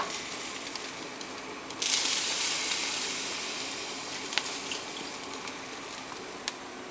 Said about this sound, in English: Might be too much water in there, huh? Let's take some out.